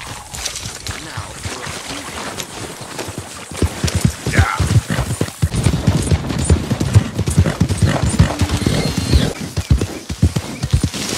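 Rapid clip-clop of video game horse hooves pounding in a galloping rhythm, close and loud, building after a quieter start, with a brief whinny mixed in.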